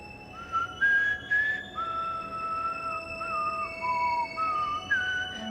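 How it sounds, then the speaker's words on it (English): A person whistles a slow melody of sustained, gliding notes with short pauses between phrases, clear and fairly close, with no talking during a meditation session. "You're going to whistle to this melody."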